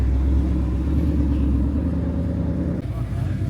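A Ford Mustang 5 litre at a damp, cool car cruise on the Parade in Napier, New Zealand, gives off a loud, close, deep engine rumble that holds steady and dips briefly near the end.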